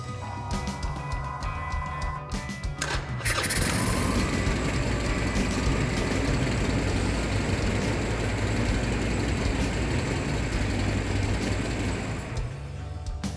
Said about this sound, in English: Good running motorcycle. It's going to come back to idle.